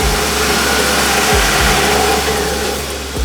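A car engine, just fitted with a new exhaust manifold gasket, runs under throttle with a loud, steady low rumble from the exhaust and a couple of brief dips in pitch.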